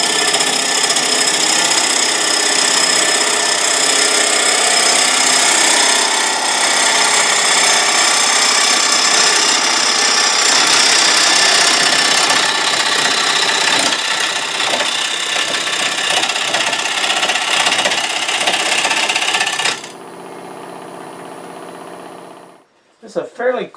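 A wood lathe spinning at about 1,000 rpm while a gouge makes a push cut across a coarse-grained wooden bowl, a loud steady whirring scrape that ends abruptly near the close, followed by quiet and a brief clatter.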